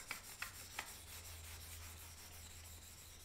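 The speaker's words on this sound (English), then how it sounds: "The rosin provides a sticky surface on the bow hair for the friction that we need" Rosin rubbed back and forth along the hair of a violin bow, giving a soft, steady scraping friction with a few light taps at the start, quiet and close with a low hum underneath.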